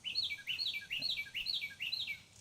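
A small bird chirps in a quick repeating series of bright, clear notes, fairly faint and alone, with no talk.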